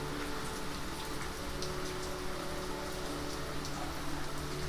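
Fast-flowing floodwater rushing through West Amarpur village, pouring past a Kali temple and into houses; a steady, dense, rain-like hiss and roar with no break, fairly faint and unbroken.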